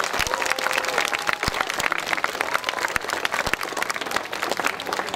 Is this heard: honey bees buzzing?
no